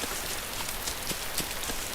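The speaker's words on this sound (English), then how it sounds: "Obviously it's raining." Steady rain falls in a video game, a dense even hiss of drops with no voices over it.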